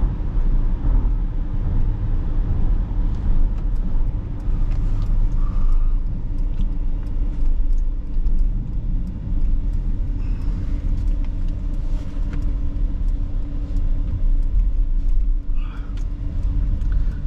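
A Mercedes EQS 450 4MATIC electric sedan drives and accelerates, heard from inside as a constant loud low rumble of road and wind noise with faint whines and ticks and no clear engine note.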